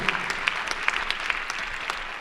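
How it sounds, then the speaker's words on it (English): A crowd at a gubernatorial candidates' political forum applauds steadily, dense clapping that fills the short moment without a break. "give your rep a round of applause"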